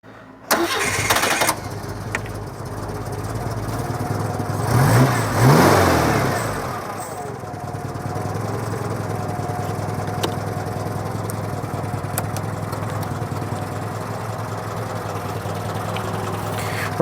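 Citroen GSA car engine cranks and catches, revving briefly before settling into a steady, close idle that runs on for many seconds.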